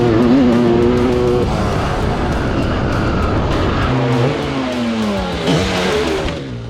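A 1989 500cc two-stroke open-class dirt bike engine running loud and close, revving up and down with rising and falling pitch sweeps and a rough, buzzy tone throughout.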